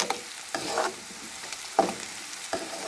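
Green chilies and onion are stirred in hot oil in a pan, with a steady close sizzle broken by a few scraping spoon strokes at irregular intervals.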